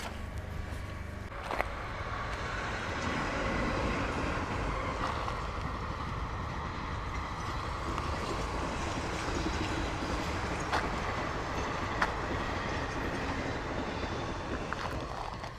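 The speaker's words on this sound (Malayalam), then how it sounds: "ഈ ട്രെയിന് ഗുരുവായൂർ ടു ചെന്നൈ പോകുന്ന വണ്ടി" Guruvayur to Chennai passenger train running on a track through a sunflower field, a low steady rumble of wheels with wind buffeting the microphone, heard from outdoors at middle distance.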